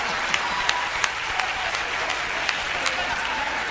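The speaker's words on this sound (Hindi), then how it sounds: "आप सबने तालियां भी बहुत मन से बजाई" Audience applause at a Hindi kavi sammelan poetry recital, a steady dense wash of clapping from a crowd with a few sharper individual claps standing out throughout.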